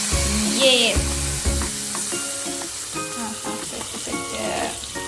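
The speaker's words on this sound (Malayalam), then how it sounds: "അതേ നമ്മൾ താളിച്ചത് നമ്മുടെ ചിക്കൻ കറിയിലോട്ട് ഇടാം." A spiced tempering is poured into a pot of chicken curry, setting off a loud hissing sizzle that settles into steady frying crackle, with clinks and scrapes of utensils on the pan throughout.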